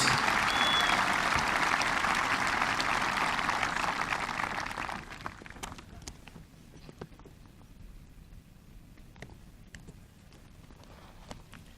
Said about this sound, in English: let's give a big round of applause for our students